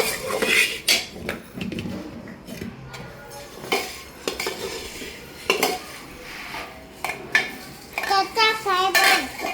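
A spoon clanks and scrapes against a metal pressure cooker while chavanu snack mix and grain are stirred together, irregular bursts of close metallic clatter with short pauses and faint voices in the background.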